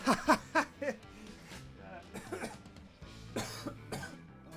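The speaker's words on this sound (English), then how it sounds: "That was a real cough." A few sharp coughs burst out at the start, followed by a short chuckle and speech-like sounds nearby.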